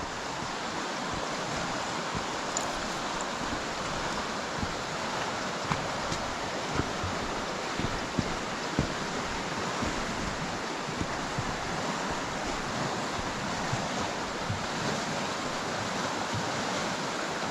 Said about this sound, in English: You hear the air bubbles where the river's going underneath big boulders over the air pockets